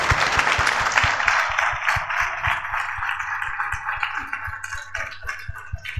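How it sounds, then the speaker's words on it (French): Audience applause at the final of a spoken-word competition, a busy spread of clapping with some distinct louder claps standing out, fading slightly toward the end. "je vous demanderai des tonnerres d'applaudissements"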